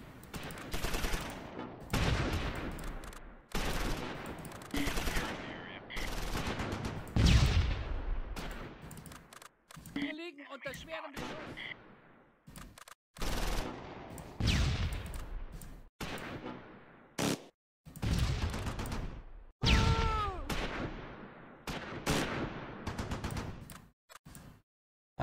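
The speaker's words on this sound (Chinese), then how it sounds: "这班人向那边射击。" Gunfire from Close Combat 5, a Normandy beach landing battle game, sounds as repeated sharp bursts and volleys, some loud and close, others fainter, separated by brief quiet gaps.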